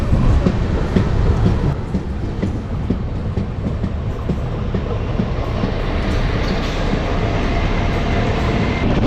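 Chennai–Calicut express train 12685 rumbles steadily along the rails, with continuous rolling noise and faint rhythmic clatter of wheels, loud and close throughout.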